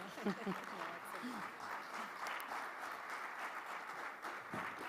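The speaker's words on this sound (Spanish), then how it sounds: "Agradeciendo a Natalie con un fuerte aplauso por su presentación." Audience applause following a presentation at a panel session, a steady, moderate clapping from a group, with a voice briefly heard at the start.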